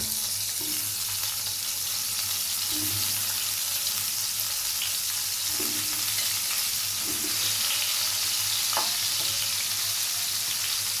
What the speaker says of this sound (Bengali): এবার ভাজা তেলের মধ্যে আমি ফুলকপি এবং আলুর পিসগুলোকে ভেজে নেব হলুদ এবং লবণ দিয়ে